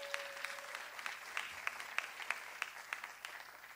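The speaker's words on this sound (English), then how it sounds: "Can we give him a round of applause?" Audience applause in a church service, a steady patter of clapping with sharper individual claps standing out, moderately loud and lasting throughout.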